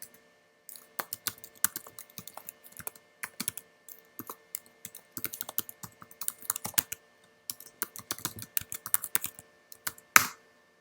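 Rapid typing on a computer keyboard, close and clear: uneven bursts of clicky keystrokes with brief pauses, ending in a slightly louder key press, no voices.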